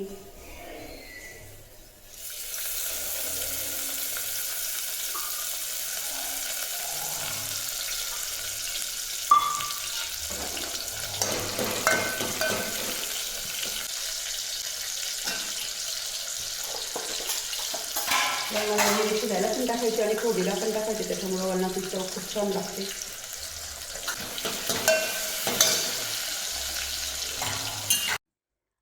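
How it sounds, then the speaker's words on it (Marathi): Dal tempering and cluster beans frying in a kadhai on a gas stove, a steady close sizzle running almost throughout, with stirring clinks and a brief spoken comment partway through. "आणि इकडं मी वरण फोडणीला टाकलं तर ह्या गॅसवर कढईमध्ये डांगर काढून घेतलं व त्याच कढईमध्ये मी गवार शिजायला टाकलं आहे"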